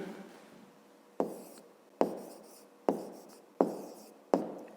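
Pen or pencil writing on paper during a fifth-grade maths exercise, five short scratchy strokes at regular intervals, each fading quickly, close and quiet with no talk.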